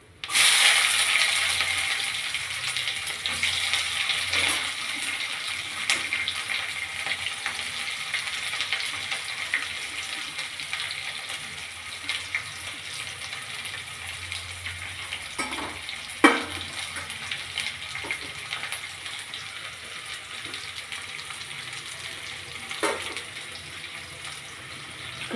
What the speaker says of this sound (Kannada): ಈಗ ಈರುಳ್ಳಿ ಎಲ್ಲ ಫ್ರೈ ಆಗಿದೆ.